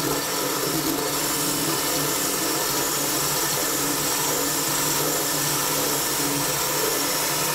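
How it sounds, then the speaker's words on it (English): A drill boring a hole through ceramic tile with a masonry bit, a steady, loud, broadband grinding whir that holds constant for several seconds without pauses or talk. "I want to make the hole I'm drilling just a hair bigger than the bit itself"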